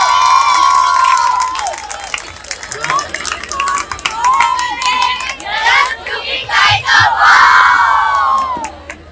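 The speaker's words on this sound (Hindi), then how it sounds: "जनाब डॉक्टर ताहिर शहीर साहब, प्लीज अपनी भरपूर तालियों में उनको खुशामदीद कहिएगा।" A crowd at a university mushaira poetry gathering cheers and claps loudly, with excited shouts and whistles rising and falling over a steady bed of applause.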